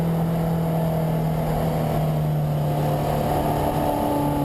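A car engine drones steadily at high revs while climbing toward Hohe Acht on the Nürburgring Nordschleife, close and loud with a constant tonal hum and road noise, no voices.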